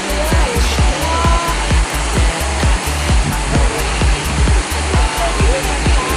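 Spring-fed water flows steadily through an eel pond in a Japanese town, a constant rushing wash with a low, irregular rumbling pulse underneath and no voices over it.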